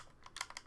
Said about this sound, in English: He can see me typing this out on the live stream